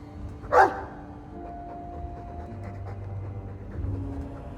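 A Mabari war dog in the video game Dragon Age 2 lets out one sharp bark-like huff, then breathes softly and steadily at a low level over a quiet game backdrop, with no speech.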